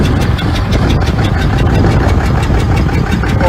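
A 6.7L Cummins diesel with extreme blow-by idles up close, loud and rough, with a fast, even pulsing knock chuffing through a heavy low rumble.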